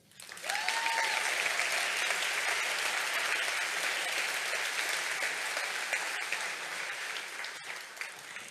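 Audience applause at a reading event about cancer: sustained dense clapping from a crowd, starting quickly and holding steady for several seconds, with a few cheers in the mix.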